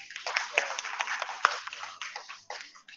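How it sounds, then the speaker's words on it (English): Applause for an award recipient at a humanitarian awards ceremony, a smaller group clapping unevenly with a few sharp individual claps standing out, fairly faint and tapering off. "Give her a round of applause."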